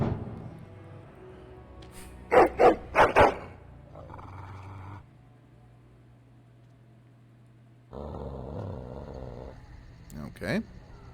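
A dog barks in a quick burst of four loud barks, with another bark later on, heard inside Dragon Age: Origins gameplay alongside other game sounds.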